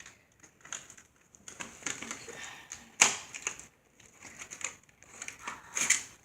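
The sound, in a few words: opening plastic fidget spinner packaging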